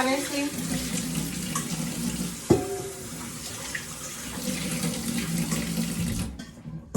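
Water runs steadily from a kitchen tap while a strainer used for carrot juice is rinsed under it, close and continuous with a brief clatter midway before the flow stops.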